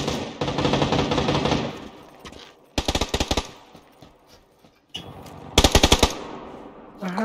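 Call of Duty gunfire crackles in rapid automatic bursts, with three or four short volleys of shots separated by quieter gaps and a sustained burst of firing at the start.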